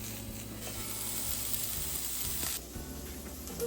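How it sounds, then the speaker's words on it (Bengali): Vegetables fry in a pan with a dense, continuous sizzle close up, steady throughout and briefly dipping partway through, with no talking. "তো মোটামুটি ভাজা ভাজা হয়ে গেছে সবজিটা"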